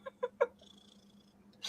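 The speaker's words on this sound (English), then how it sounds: "Wow, you got a loud purr," A cat purrs steadily and close by, a low continuous rumble running through the whole stretch, broken at the start by a few short soft sounds and ending in a brief hiss-like burst.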